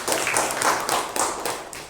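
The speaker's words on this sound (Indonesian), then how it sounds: "Oke, tepuk tangan untuk Ripani." A classroom of students claps for a classmate during a lesson, a brief patter of many small hands, fairly soft and slightly distant, with a few sharper claps standing out.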